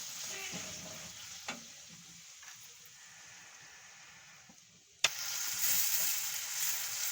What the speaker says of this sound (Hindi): इसके अंदर सबसे पहले मैं डालूंगी प्याज, इसको थोड़ी सी सौते करूंगी प्याज को।